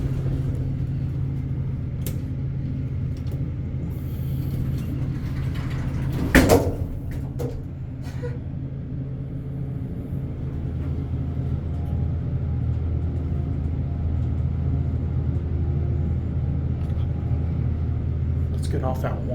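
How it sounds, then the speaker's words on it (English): A vintage Otis hydraulic elevator motor runs at a Dillard's store, a steady low rumbling hum that continues throughout, with a sharp clunk partway through and people talking over it. "I like to hear this motor go on"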